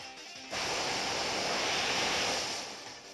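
Pokémon Ultra Sun/Moon battle effect for the Waterfall attack, a sudden rushing surge of water noise that bursts in, roars steadily for about two seconds, then fades away.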